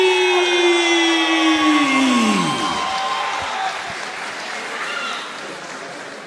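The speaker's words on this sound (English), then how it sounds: "Your applause is for Shah Kamali!" At a professional fight event, an announcer's long drawn-out voice trails off and the crowd breaks into sustained applause and cheering that carries on loudly to the end.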